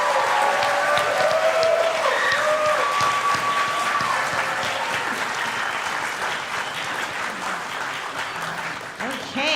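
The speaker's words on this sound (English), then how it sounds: "we're going to applaud you and celebrate you one last time officially together" A ceremony audience applauds nursing graduates at their pinning ceremony, loud sustained clapping with cheers and whoops early on, gradually easing in volume, voices mixed in among the crowd.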